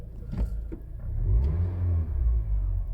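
A car engine starts and revs after a gearbox control unit is replaced, a close low rumble rising and swelling in a few throaty surges with some clunks at the start.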